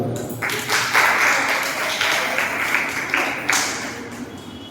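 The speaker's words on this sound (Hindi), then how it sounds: "ताली बजा सकते हैं।" Clapping from an audience at a Jain monk's discourse session, a dense patter of hands rising and falling in waves for several seconds, with faint talk underneath.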